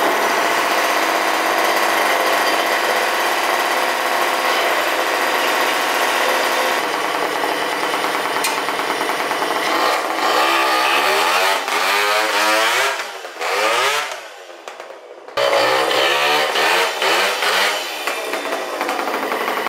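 A 64cc Puch Maxi stunt moped engine runs loud and close, buzzing steadily and then revving up and down in rising and falling sweeps, briefly cutting out before roaring back.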